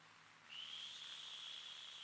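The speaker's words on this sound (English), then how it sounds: "What is this fucking suspicious ass whistle attempt?" A single high, thin whistle starts abruptly and holds steadily over faint hiss, fairly quiet and sustained.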